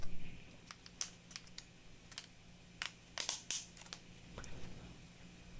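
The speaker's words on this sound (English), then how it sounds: "and then click this notch into place." Sharp plastic clicks and taps as a notch snaps into place during a PC case build, several close, crisp transients in an uneven rhythm over a quiet hum.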